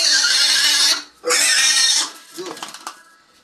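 A pig on a farm squeals during a subcutaneous injection, letting out two long, loud, harsh screams separated by a short break, then a few softer grunting sounds.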